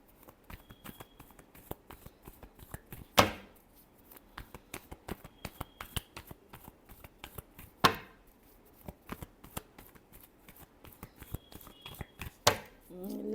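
Tarot cards being shuffled and handled close up in a quiet room, a string of crisp riffles and flicks with three sharper slaps spaced through the clip, no voices.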